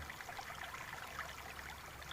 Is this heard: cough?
no